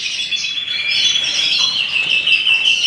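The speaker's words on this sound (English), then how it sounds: "These are all my cockbirds that are all running together" Cockbirds sharing a large aviary flight give a loud, busy chorus of overlapping high chirps and tweets that continues without a break, close by and with no talking.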